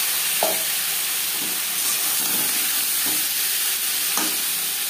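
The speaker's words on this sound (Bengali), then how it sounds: "মাছ আমি হালকা করে ভেজে নেব।" Marinated prawns frying in about three spoons of hot refined oil give a steady close sizzle and hiss, with a few soft stirring knocks scattered through the clip and no talking.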